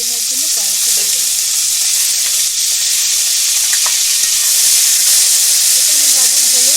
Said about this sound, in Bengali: দেখো আমার বিন আর গাজর আলুগুলো আমি এবার ভেজে নেওয়ার জন্য কড়াইতে দিয়ে দিলাম